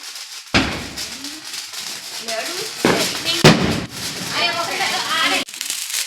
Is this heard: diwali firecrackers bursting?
yes